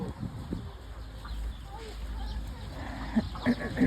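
Chickens cluck nearby in short bursts against soft background noise on an ostrich farm, with a few sharper clucks toward the end.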